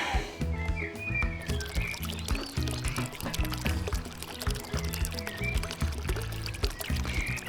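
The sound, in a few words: used vegetable oil being poured into a jar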